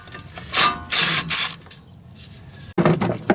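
Bolts of 10mm are removed from a cover on a 2001-2007 Kawasaki Mule 3010 4x4 with a powered driver or ratchet, heard as several short, loud, close mechanical whirring bursts separated by brief pauses.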